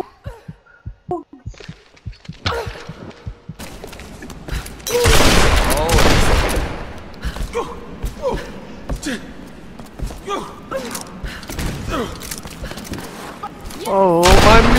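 Rapid bursts of minigun fire in a cooperative video game come in loud, dense stretches, swelling and fading over noisy battle effects, with voices talking at points alongside.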